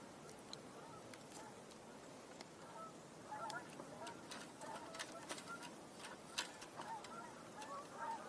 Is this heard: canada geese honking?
yes